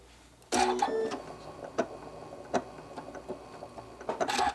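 A home sewing machine running decorative stitches on a fabric cat toy starts with a short whirring burst, then gives scattered mechanical clicks and brief runs, fairly quiet and close.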